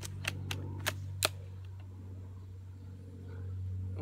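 Four sharp test shots from a GF529 toy sniper rifle fired outdoors at a tree, coming in quick succession at the start and followed by a low steady hum with no talk.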